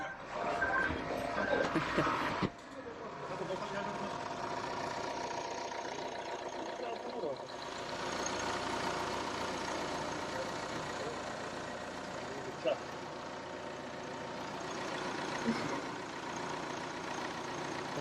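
A Volvo XC90 R-Design engine idles with a low, continuous rumble heard from outside, with a louder burst at the start and brief knocks partway through.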